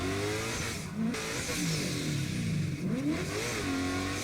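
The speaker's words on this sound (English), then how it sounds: "every time he's on handbrake, he's still revving up that motor" A drift car's engine revs hard and holds high RPM while on the handbrake, a loud, continuous close roar with rising and falling pitch sweeps, no talking.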